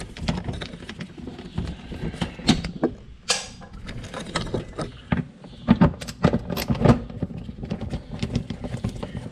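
A small ratcheting nut driver clicks in quick, uneven bursts while undoing car bolts, with close, crisp ticks and rattles and short pauses between runs.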